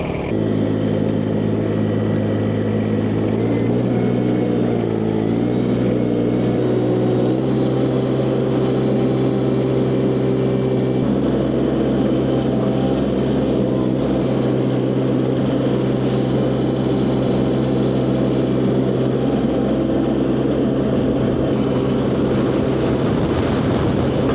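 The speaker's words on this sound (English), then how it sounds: "got the excavator warming up" A heavy excavator engine idles steadily while warming up, with a low, constant rumble and mechanical drone, running continuously and fairly loud with no voices.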